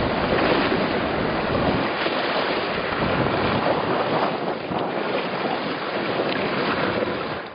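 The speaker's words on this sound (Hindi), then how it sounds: "एक मनमोहक आवाज इस झील से सुनाई दे रही थी" Strong wind gusts and lake waves on a cold day roar as a dense, continuous wash of noise that stays loud and steady throughout, with no voices.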